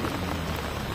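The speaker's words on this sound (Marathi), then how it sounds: "आम्ही बाहेर आलो, पाऊस सुरू झाला आहे बघा" Steady, dense rain pours outdoors at the start of a monsoon shower, a continuous close hiss of drops hitting surfaces with no talk over it.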